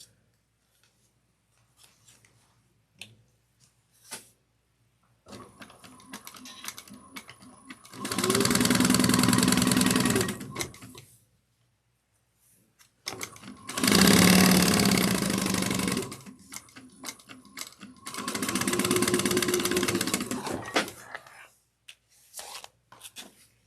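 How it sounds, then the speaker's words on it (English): A sewing machine stitches a bag pocket seam in three sustained runs of steady whirring, separated by pauses filled with soft fabric handling and small clicks. "We're going to put these right sides together and we're going to sew this down at 3/8 of an inch"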